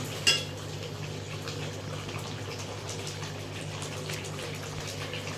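Potato curry with bori and a couple of spoonfuls of salt is stirred in a pan: a steady hiss of gentle cooking with one sharp utensil clink near the start, then soft continuous scraping and simmering noise.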